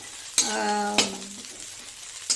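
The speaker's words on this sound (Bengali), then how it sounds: "নারকেলটাও একটু ভাজা ভাজা হয়ে গেছে" Grated coconut frying with onions in a pan for a prawn and water lily stem dish: a soft, steady sizzle with a brief tonal hum over it early on and a couple of sharp stirring knocks.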